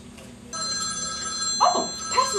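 A telephone bell rings steadily with a sustained electronic trill in an indoor comedy scene, loud and alone, with faint voices near the end.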